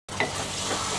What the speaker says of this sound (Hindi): मैं ऐड कर दूंगी 3 मीडियम साइज कटे हुए टमाटर।